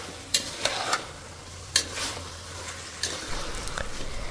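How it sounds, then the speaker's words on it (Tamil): Chicken biryani masala with salt sautéed in a pan, a spoon scraping and knocking against the metal in separate sharp strokes over a low steady sizzle, close and fairly quiet. "இதில் தேவையான அளவுக்கு உப்பு சேர்த்து வதக்கிக்கங்க."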